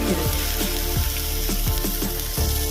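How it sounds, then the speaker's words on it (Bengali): Small chicken pieces sauté in a hot pan with a steady sizzle, broken by repeated scraping strokes of a spatula at an irregular rhythm, close and fairly loud. "এটা ভালো করে কষিয়ে নেব"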